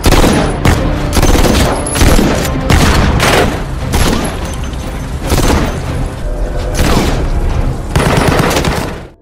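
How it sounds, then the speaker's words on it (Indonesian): Dense gunfire in an action film shootout at a mafia hideout: loud, continuous volleys of rapid shots and booms with mechanical clatter, relentless throughout with no pause. "Dengan cepat Victor langsung saja melakukan serangan hingga terjadi aksi tembak-tembakan."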